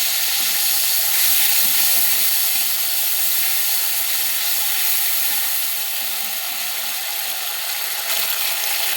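Ground spice paste hits hot oil in a pan, giving a loud, steady bright hiss and sizzle that continues without pause from start to finish.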